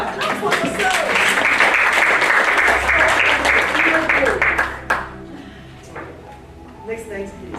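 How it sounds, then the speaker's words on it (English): Workshop audience claps for itself in a sustained burst of dense applause lasting about five seconds, then tapering off into scattered claps and quiet room murmur. "Clap for yourselves."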